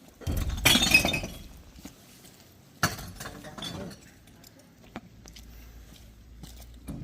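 Glass breaks in an Asian grocery store, a loud bright shattering crash followed by a second sharper clink and scattered tinkling pieces, with faint voices around it.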